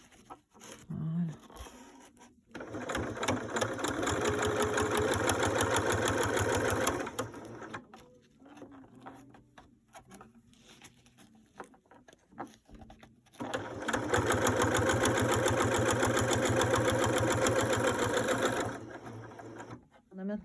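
Sewing machine stitching a fabric face mask: two long bursts of fast, steady, close mechanical whirring, separated by a quieter pause with small handling noises.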